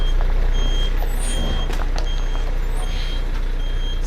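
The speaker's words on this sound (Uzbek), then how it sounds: "Strelani tushirib olish uchun orqaga yuryapti mashina." A truck backs up with a steady series of evenly spaced high reversing beeps over a loud, constant engine rumble, with a hiss of air brakes partway through, close by.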